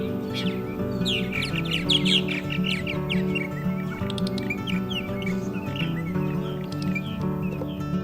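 Martins call at a nesting colony in a dense, continuous chorus of chattering squawks and chirps. The calls overlap closely throughout and no one speaks.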